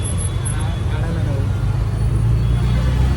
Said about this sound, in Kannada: ಅಂಥದ್ರಲ್ಲಿ ಏನು ಟ್ರಾಫಿಕ್ ಇದೆ ಅಂದಿರೋ, ಸಿಕ್ಕಾಪಟ್ಟೆ ಟ್ರಾಫಿಕ್